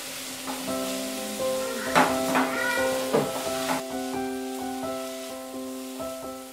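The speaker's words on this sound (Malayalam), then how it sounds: "സവാള ഒന്ന് വഴന്നതിന് ശേഷം അതിനകത്തേക്ക് കറിവേപ്പിൻ്റെ ഇല, പച്ചമുളക്, 2 ടീസ്പൂൺ ഇഞ്ചി വെളുത്തുള്ളി പേസ്റ്റ്, ഇത്ര ആഡ് ചെയ്ത് നന്നായിട്ട് വഴറ്റിയെടുക്കുക" Onion, curry leaves, green chilli and ginger-garlic paste sauté in a pan for Kerala squid roast, with a steady soft sizzle and a few scraping stirs under a sustained musical background tone.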